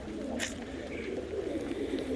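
Tippler pigeons coo softly in their coop during rain, low murmuring calls continuing over a steady hiss, with a brief brighter chirp standing out.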